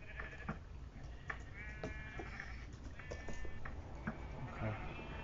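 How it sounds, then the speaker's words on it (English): Sheep bleating in the Minecraft video game, several wavering bleats repeating across the scene at low volume, with no speech over them. "There's sheep everywhere."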